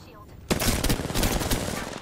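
Rapid automatic gunfire in a first-person shooter video game, a loud burst of overlapping shots starting abruptly and continuing steadily, close and dense.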